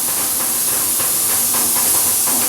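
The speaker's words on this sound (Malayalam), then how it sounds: "വിസിൽ വരുന്നുണ്ട് കുക്കറിന്റെ" A kitchen pressure cooker releases steam in a steady, loud hiss throughout, with faint pulsing surges and no talking.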